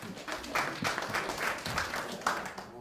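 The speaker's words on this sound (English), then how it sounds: "Give Lambie a round of applause." A small group claps in a room for a participant in a workshop, a short burst of scattered hand claps at close range, fairly soft and uneven.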